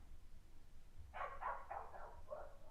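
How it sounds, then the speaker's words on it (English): A neighbouring dog barks next door, a burst of four or five rapid barks heard at a distance through a wall, muffled and moderately loud over low background hum, with no talk. "The dog's decided it's going nuts next door."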